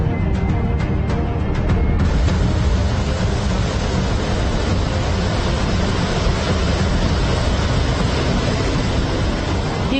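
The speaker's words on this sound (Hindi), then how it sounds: "ये गुजरात के डांग जिले के एक झरने की तस्वीर है" Zira waterfall in Dang, Gujarat, running in full flow after heavy rain: a loud, steady, broadband roar of rushing water that fills the whole stretch with no pauses.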